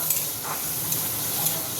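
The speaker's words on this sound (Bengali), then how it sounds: "এইভাবে একটু নেড়ে নেবো মানে একটু ভাজা ভাজা করে নেবো" Banana stem paste is stirred over a black cumin tempering in a hot pan, giving a steady, close sizzling hiss with soft scraping throughout a short stretch.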